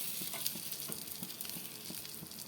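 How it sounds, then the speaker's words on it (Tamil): River fish frying in oil, a steady crackling sizzle with soft spatters and periodic bubbling pops, close and moderately loud with no voices. "எண்ணெய் மீனை பரட்டி போட்டுக்கிட்டே இருங்க."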